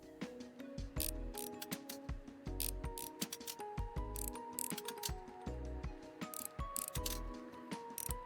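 Screws being undone on a PlayStation in the cozy repair game ReStory, a rapid run of clicky ratcheting turns and small mechanical ticks, close and continuous with no voices.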